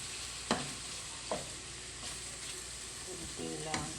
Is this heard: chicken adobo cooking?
yes